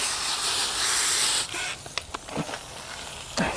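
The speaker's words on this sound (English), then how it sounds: "You want to keep on rinsing them down, just so that it doesn't dry up on you." Hose water sprays steadily while a car is rinsed, a continuous close hiss for the first second and a half, then broken into short bursts and spatters with quieter gaps between.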